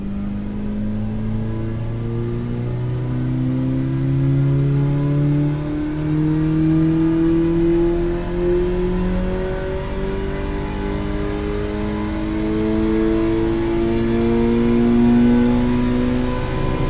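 A Ferrari Mondial engine revs on a dynamometer, a loud sustained car-engine roar climbing steadily in pitch through the gears with rising harmonics, close and continuous, no voices.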